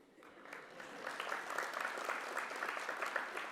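Audience clapping at a research symposium session in Sydney, swelling from quiet to a steady patter of many hands, moderately distant and fairly soft, continuing to the end.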